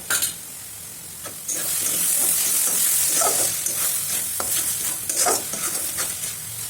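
Onions fry in a pan with black pepper for a meat dish cooked without water, a loud continuous sizzle that swells after a brief quieter start, broken by repeated stirring scrapes and clinks.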